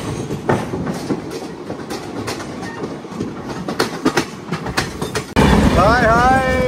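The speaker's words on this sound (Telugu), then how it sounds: "హౌరా నుంచి ఎంజీఆర్ చెన్నై సెంట్రల్ వెళ్ళే కోరమండల్ ఎక్స్ప్రెస్ క్రాస్ ఓవర్." Coromandel Express from Howrah to Chennai Central passing at a crossover, wheels clattering in irregular bursts over the points close by, followed by a louder rushing roar with squealing metallic tones.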